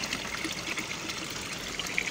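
Water runs through an aquaponics system past a 30W UV filter lamp, a continuous close gushing and trickling flow with a steady, even level.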